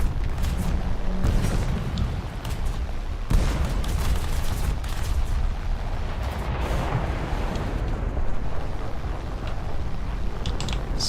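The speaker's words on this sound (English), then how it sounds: "Danny Boy's calling in an airstrike, okay. Airstrike inbound." Airstrike explosions in War Thunder erupt as loud, rumbling booms and bursts of gunfire that roll on continuously, with sharp blasts standing out, nearby and dense, without speech.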